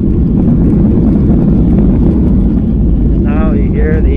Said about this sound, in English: Now you hear the engine thrust reversers come on to slow the plane down.